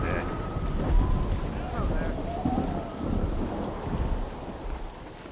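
Steady rain patters with low rumbling underneath in Red Dead Redemption on PS3, while a voice talks faintly over the downpour.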